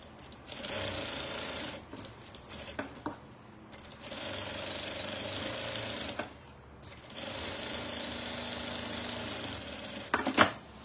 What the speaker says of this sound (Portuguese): E aí venho fazendo essa costura.